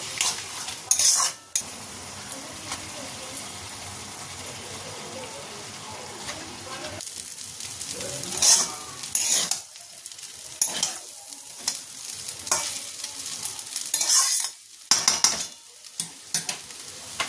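A spoon scrapes and stirs veg noodles with tomato sauce, sauce and black pepper in a pan, with a soft sizzle under intermittent sharp metal clinks against the pan rim, nearby and fairly quiet.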